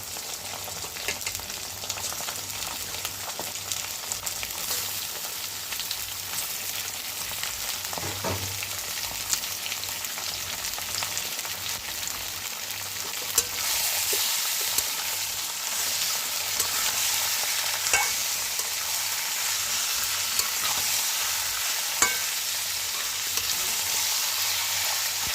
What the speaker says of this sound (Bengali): নাড়ানাড়ি করছি চিকেনটা একটু সামান্য করে